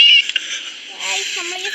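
Cartoonish cat meows from the Scary Teacher video game, a short bright cry at the start followed by softer mewing tones over a steady game background, with talk around it.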